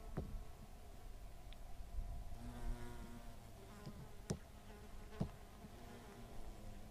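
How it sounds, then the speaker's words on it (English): A large bee buzzes around tall clusters of flowers at Yant Flats in Utah, its drone rising and fading as it moves near and away amid faint outdoor ambience. "Never seen a bee like that."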